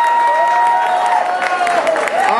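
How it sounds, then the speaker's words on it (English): An event audience applauds Roland Martin with scattered clapping and faint cheering, while a tonal sound and some murmuring run underneath. "Roland Martin, everybody, give him a round of applause."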